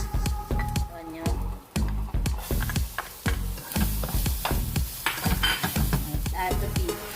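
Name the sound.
onion sautéing in oil with garlic and ginger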